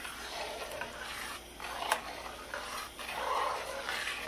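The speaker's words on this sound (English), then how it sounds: "Just stir it around." Cheesy chicken chilli stirred in a pan with a gentle, steady scraping and soft sizzle, quiet and continuous, with one small clink of the utensil against the pan.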